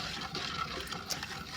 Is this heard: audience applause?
no